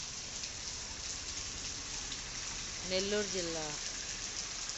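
Steady wash of heavy rain pouring down in Nellore district, constant and dense, with a voice briefly speaking over it.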